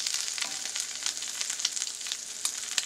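An egg frying inside a pizza crust in a pan, giving a steady bright sizzle with rapid crackling pops, close and moderately loud, with no talking.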